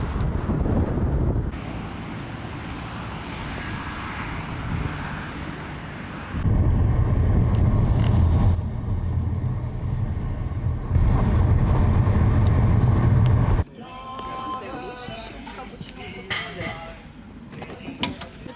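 Strong wind buffeting the microphone outdoors amid scenic countryside in Romania, a loud rumbling roar that surges and drops in gusts, easing near the end to lighter rustling.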